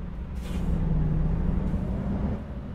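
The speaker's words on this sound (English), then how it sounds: "Yeah, it's roadworks." Low rumbling truck cab drone with a steady engine hum and a brief hiss near the start, roadworks traffic in American Truck Simulator, continuous and moderately quiet with no talking.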